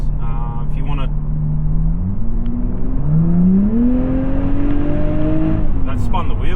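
A car fitted with an axle-back exhaust accelerates hard in high gear, the engine note climbing steadily with a loud, steady rumbling drone as the wheels spin, heard close from inside.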